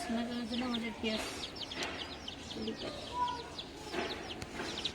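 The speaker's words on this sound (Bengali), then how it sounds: "এই যে হচ্ছে মুরগির বাচ্চা" Soft clucking and peeping from chicks near the microphone, repeated in short bursts, with a person speaking intermittently over them.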